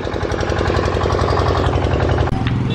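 An engine runs loudly and steadily close by, a dense rattling drone with a slight shift near the end, with no talk over it.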